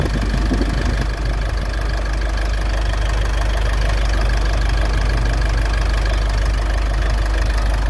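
A 2017 Mitsubishi Triton HDX pickup truck engine idles steadily and loudly up close, a smooth, constant even rumble with no misfire and no other sounds.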